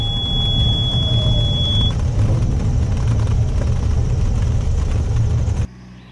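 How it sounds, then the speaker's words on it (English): A light aircraft engine drones steadily and loudly through a short-field landing approach, with a thin high whine over the first two seconds, before the engine noise drops off abruptly near the end. "You can see my approach and hear the motor, the corrections I do with the throttle"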